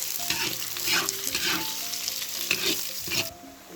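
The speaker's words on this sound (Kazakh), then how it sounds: "Қызарған соң, сәбізімізді салып, тағы да 5 минуттай қуырып алатын боламыз." Chopped onion and carrots fry in hot oil in a pan, a close, continuous sizzle broken by the scrape and clatter of stirring.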